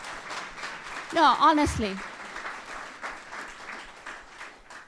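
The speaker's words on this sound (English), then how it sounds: "Can you give her a round of applause, Pakistani-American?" Scattered applause from a panel discussion audience rises briefly behind a woman's short spoken remark, then continues as a loose, moderate patter of clapping that gradually thins out.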